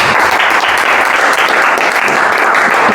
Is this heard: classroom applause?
yes